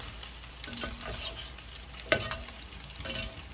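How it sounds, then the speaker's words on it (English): Pork frying in shortening (manteca) in a pan, a steady low sizzle running throughout with a sharp pop or clatter near the middle, close and fairly quiet. "so it can start frying just a little faster"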